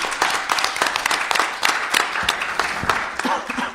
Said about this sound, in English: I just ask you to give the gentleman another round of applause.